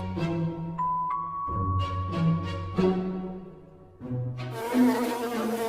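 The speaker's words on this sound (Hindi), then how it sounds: "ऐसा रानी मधुमक्खी आने से जंगल में सारे मधुमक्खियां वहां पर उड़ते हुए आ जाते हैं।" A swarm of honeybees flying in a forest in a cartoon, a steady buzzing drone with music-like tones, rising louder toward the end.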